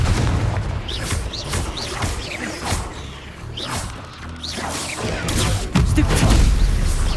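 Repeated explosive spell blasts in the Hogwarts Legacy video game, loud booms and crashing bursts with whooshing magic casts, dense rapid impacts piling up across the whole stretch with no pauses.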